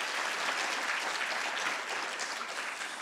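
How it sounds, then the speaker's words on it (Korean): Audience at a tourism forum clapping together, a dense, even burst of applause held at a steady level throughout. "우리 한번 힘차게 박수 한번 치고 시작하면 어떨까 싶습니다."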